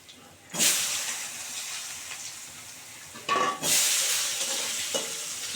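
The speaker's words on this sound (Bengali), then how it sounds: "আলুগুলো খুব সুন্দর করে ভেজে নেবো লাল করে" Potatoes fry with cumin seeds in a pan, the sizzle flaring loudly as they are tossed and scraped in two bursts, then settling into a steady hiss with a brief clink; no voices.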